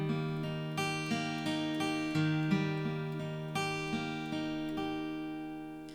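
Guitar notes picked with the pick held flat against the string, a series of evenly spaced plucks with ringing sustained tones, each attack decaying into the next, moderately quiet.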